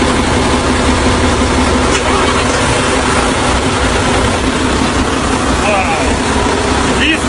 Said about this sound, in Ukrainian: Я вам зараз так само покажу мотори.